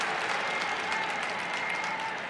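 A crowd at a Syracuse lacrosse game in the Dome claps and cheers in a dense, steady wash of applause that carries through the whole stretch.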